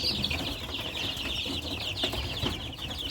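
Young Faverolles chicks, just starting to feather, cluck and chirp close by while wings flap and rustle in short bursts, over a steady bright, noisy background.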